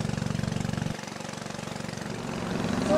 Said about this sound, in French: nous embarquons, tel Indiana Jones, à bord d'une puissante pirogue à moteur